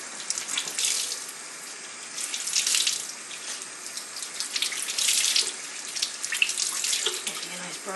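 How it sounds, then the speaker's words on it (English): Tap water runs steadily into a sink as herb-dyed laces are rinsed, a close hissing stream with louder splashing surges, and a voice faintly audible beneath. "I'm just going to run these into the water as well."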